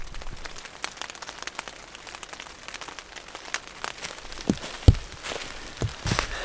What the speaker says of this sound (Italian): Nel frattempo continua a piovere.